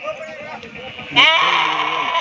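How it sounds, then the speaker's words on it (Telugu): Sheep and lambs bleat close by at a sheep market in Guduru, with a sharp, wavering bleat rising near the middle over a background of other animal calls. "ఇరవై గొర్రెలు ఆ పైన కనిపించే పిల్లలు ఇరవై పిల్లలు"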